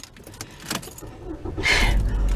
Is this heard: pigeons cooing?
no